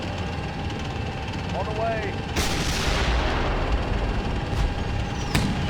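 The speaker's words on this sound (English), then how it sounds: "there's so many missiles coming up towards us" Artillery fire and missile launches in a tank combat video game, a sudden loud blast that rolls into a long rumble, then further sharp reports over a steady engine drone, with a voice talking throughout.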